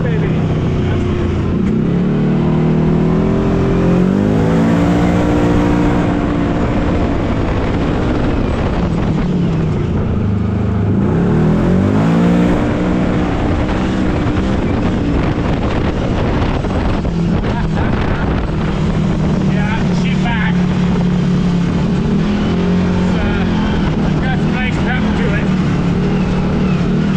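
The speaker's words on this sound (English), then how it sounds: "Get some RPMs going on here." A Kawasaki KRX side-by-side fitted with a Brute Performance fuel pump revs repeatedly, its engine note sweeping up and down in several loud pulls under constant wind buffeting, with a voice speaking over it.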